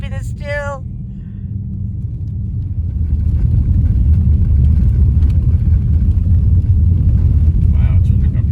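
Car rumbling along a bumpy road while driving through a blizzard from South Lake Tahoe to Reno, a steady low, loud road and engine roar that builds after a few seconds, with a short voice near the start.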